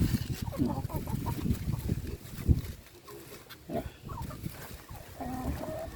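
Native chicken hens cluck intermittently at close range alongside other farmyard sounds, with soft background noise and occasional rustling between the calls.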